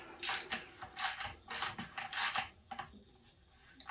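A thread tap turns in an aluminum thermostat housing with clicking, ratcheting metal scrapes in short irregular bursts that thin out toward the end.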